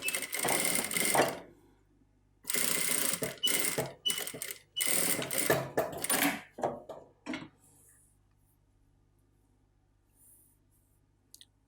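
A sewing machine stitches fabric for a patchwork quilt, running in several rapid bursts of mechanical chatter with short stops between them, then falling quiet.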